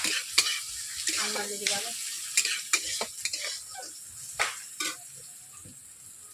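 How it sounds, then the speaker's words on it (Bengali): Onions frying and being stirred in a pan for a water spinach stir fry, with a steady sizzle broken by sharp scraping stirs, close and moderately loud, with a brief voice. "পেঁয়াজগুলো বেশি ভাজবো না"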